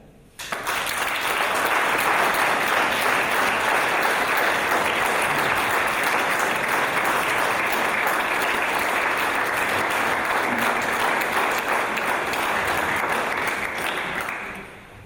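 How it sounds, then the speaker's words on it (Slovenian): An audience at a veterans' choir concert claps steadily and loudly for over ten seconds, the applause starting abruptly and tapering slightly at the end. "Hvala za srebrni aplavz."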